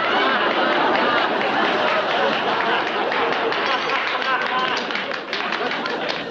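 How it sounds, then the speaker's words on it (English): Audience applause for award nominees at a ceremony, a dense steady wash of clapping blended with crowd chatter that fills the whole stretch at even loudness. "Would all the nominees please stand and accept our applause?"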